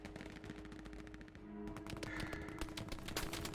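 Incoming gunfire in the World War II video game Hell Let Loose, rapid machine-gun bursts cracking in a steady rhythm, fairly close and sharp, continuing without pause across the clip.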